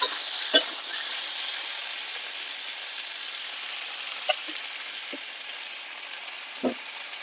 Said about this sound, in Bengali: মাংস যত কষাবে তত খেতে ভালো লাগবে, তাই ভালো করে কষিয়ে নেবো